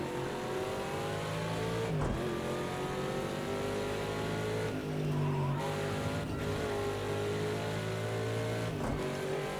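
Ford Mustang sports race car at Road America braking hard for a turn and then accelerating, a loud continuous engine roar that shifts pitch through downshifts and revs.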